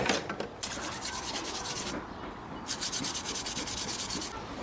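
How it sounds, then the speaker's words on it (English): A Scotch-Brite pad scrubs the mating surface of a BMW cylinder head, giving harsh, close abrasive rubbing in rapid back-and-forth strokes, broken by a brief pause in the middle, with no talking. "I got some Scotch-Brite pad around here. We should use to scrub that down, clean the mating surface a bit."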